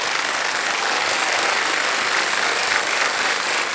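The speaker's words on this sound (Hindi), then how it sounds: "तालियां बज जाए" Studio audience on a Hindi quiz show breaks into steady, dense applause, loud and continuous with no pauses, filling the whole stretch without any voices over it.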